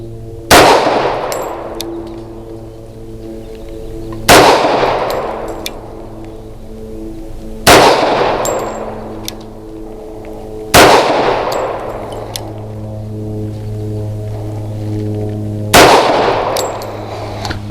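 A Bersa B1911 pistol fires PMC Bronze ammunition outdoors, with five loud, evenly spaced shots about three seconds apart, each ringing with a short metallic echo and decay.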